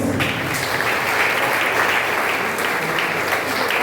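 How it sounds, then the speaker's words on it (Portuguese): A crowd at an outdoor Santa Rita mass and chapel blessing gives a loud, sustained round of applause, dense clapping at an even level from start to finish. "uma salva de palmas"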